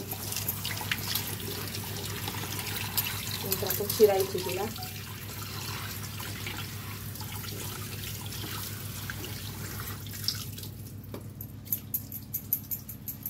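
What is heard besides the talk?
washing picked wild leafy greens in water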